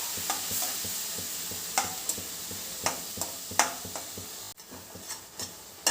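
Almond kesari with milk being stirred in a pan, with a faint background sizzle broken by soft, irregular spoon taps and scrapes against the metal, no voices.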